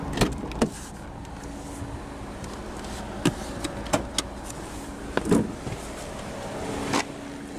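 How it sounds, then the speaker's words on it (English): Power windows on a 2014 MINI Cooper convertible hum closed after the top lowers, a steady low motor drone under scattered close clicks and sharp knocks, with no talking. "And then it will automatically roll all these windows back up."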